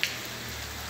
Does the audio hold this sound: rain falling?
yes